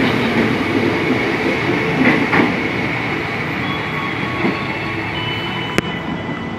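Commuter KRL train at Cawang station in Jakarta during evening rush hour, a loud steady rolling rumble of wheels and carriages with faint clicks and a sharp click near the end.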